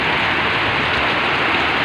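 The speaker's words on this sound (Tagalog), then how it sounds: "Tingnan nyo po, napakalakas ng ulan." Heavy afternoon rain pours down in Meycauayan, Bulacan, a loud, dense, unbroken roar of falling water heard close, with no voices over it.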